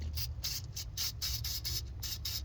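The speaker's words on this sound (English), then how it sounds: "we'll spray some of this terminal protector as well" A run of quick aerosol spray bursts of battery terminal protector on a 2014 GMC Acadia battery, close by, hissing in a steady rhythm of short puffs with a low hum underneath.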